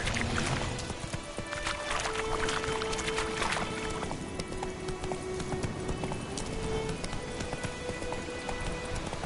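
Roach, the horse from The Witcher 3 game, gallops with rapid, steady hoofbeats that keep up throughout, mixed with game music and ambient noise. No one speaks.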